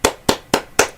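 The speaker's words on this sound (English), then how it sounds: "Applause for Cole." Four sharp, evenly spaced claps ring out in about a second. They are close and crisp with no crowd behind them, like one person applauding alone.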